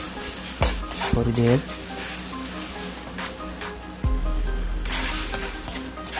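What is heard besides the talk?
dry spices frying in oil for karela dal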